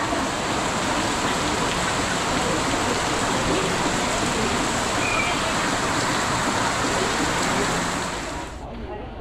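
Heavy rain falls in a steady, dense roar that holds evenly throughout and then drops off abruptly at the very end.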